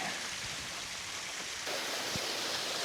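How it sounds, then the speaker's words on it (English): Laurel Falls at DeSoto State Park, a double cascade waterfall, heard as a steady rushing wash of water that grows slightly louder partway through, with no voices. "we made it to our last waterfall of the day. It's the Laurel Falls. It's kind of a double cascade type deal."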